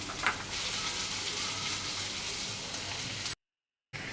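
Onions, green chillies and curry leaves fry in a pan for a Tamil-style puttu egg masala, giving a steady, close crackling sizzle that runs evenly, then cuts to brief silence near the end before resuming.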